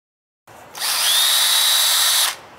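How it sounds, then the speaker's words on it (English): A power drill bores holes into a two-liter plastic bottle of seltzer water, making one loud, close, steady whirring burst that starts sharply, runs about a second and a half, then cuts off, with no talking. "we just got finished doing some of our drilling here."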